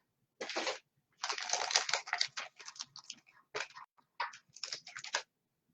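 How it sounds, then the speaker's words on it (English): Close, quiet crackling and peeling of foam tape being applied to a paper mini album, in irregular short bursts separated by brief pauses, with no talking. "Now I need to put a little foam tape."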